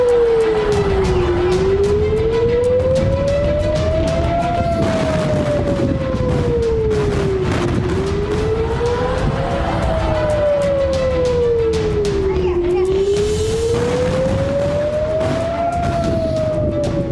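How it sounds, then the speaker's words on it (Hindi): Air raid sirens over Tel Aviv during an Iranian missile attack wail, rising and falling in slow, steady cycles, loud and continuous over a dense background rumble with scattered bangs. "इसराइल के आसमान सायरन की आवाज से गूंज उठे"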